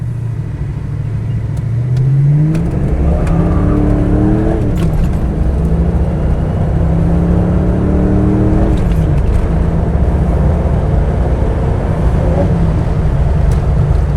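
A 1987 Ford Mustang GT with a 5.0 engine and 5-speed revving from idle, loud and close, with several rising and falling throttle sweeps over a steady low rumble.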